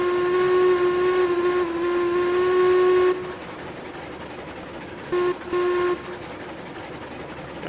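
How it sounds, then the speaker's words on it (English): A steam locomotive in Railroads Online gives a long, low steam whistle blast, followed by a pause and two shorter toots. Chuffing and rail rumble continue underneath, and the whistle carries a faint echo. "Whistle is realistic for that sort of locomotive."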